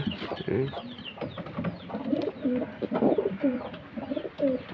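Lakkha (peacock-tail) pigeons at a pigeon loft cooing in repeated soft, throaty phrases, close by, with faint talk and other birds in the background.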